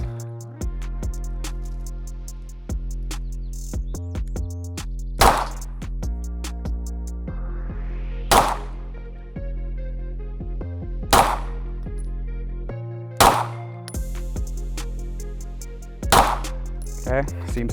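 Gunshots fired at a target with an Olight sight: five sharp reports spaced a few seconds apart, loud and close, with a steady synthetic music bed underneath.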